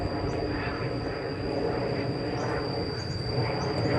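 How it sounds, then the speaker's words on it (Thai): A steady broad roar of an airplane passing high overhead, moderately faint and continuous, with a thin high tone running underneath. "ได้ยินแต่เสียงเครื่องบินไปทางเทิง"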